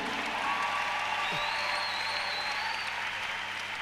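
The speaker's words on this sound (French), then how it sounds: "Acclame Jésus." A church congregation applauds together in a steady, sustained wash of clapping that fills the room evenly from start to finish with no speech over it.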